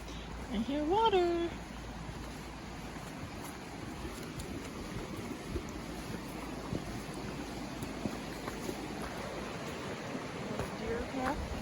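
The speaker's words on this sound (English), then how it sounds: "I hear water." A stream flows through Virginia woods, a steady soft rush of water that runs the whole time, with a brief chirp near the start.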